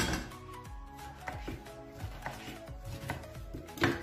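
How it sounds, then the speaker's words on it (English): A knife slicing through pineapple on a cutting board, a quiet series of crisp cuts and taps coming roughly once or twice a second, close by with no talking. "So after that, I'm going to slice it."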